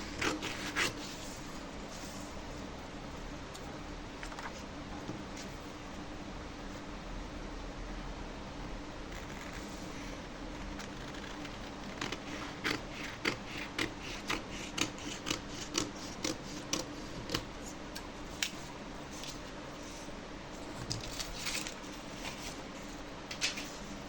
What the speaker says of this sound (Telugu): ఇప్పుడు ఈ మార్కింగ్ పైన కట్ చేసేస్తున్నాను